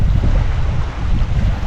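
Strong coastal wind roars across the microphone on a Maine sea kayaking trip, a loud, steady low buffeting rumble with gusty swells and no voices.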